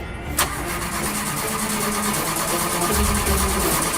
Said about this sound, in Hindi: ये भी गाड़ी स्टार्ट क्यों नहीं करती?